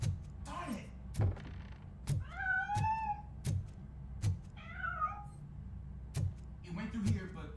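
A cat in RoboCop Rogue City meows twice with clear, drawn-out cries, set among regular dull thunks like footsteps and softer scuffs, all fairly quiet.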